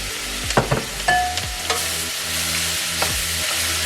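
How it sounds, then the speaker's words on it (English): Onions tumble into melted butter in a pot for French onion soup, with a few clattering knocks and stirring scrapes, then a steady close sizzle as they sauté. "We're gonna saute."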